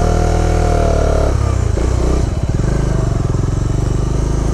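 A Bajaj Dominar 400 motorcycle engine sputters and turns over unevenly after falling on a dirt road, cranking and coughing without catching into a steady idle.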